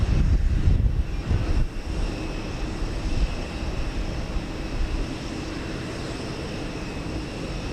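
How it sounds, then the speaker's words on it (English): Boeing 787-9 airliner on United Flight 7 bound for Tokyo Narita at Houston Intercontinental, a steady broadband jet roar that is loudest at the start and holds fairly even, heard from a distance without any talk. "United Flight 7 going to Narita Airport in Tokyo. Another 787 9."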